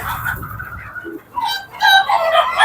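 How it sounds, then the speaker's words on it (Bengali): Frightened Fayoumi chickens squawk and cackle loudly in agitated bursts, rising toward the end, close by and without talk. "মুরগিগুলো ভয় পেয়ে গেছে যার জন্য চিলাচিলি করতেছে"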